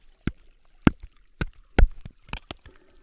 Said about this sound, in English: I also banged some rocks together.